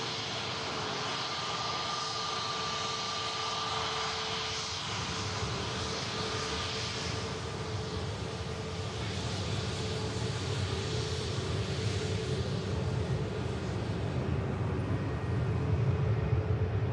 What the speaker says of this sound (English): the Paris-bound EasyJet is initiating the takeoff roll now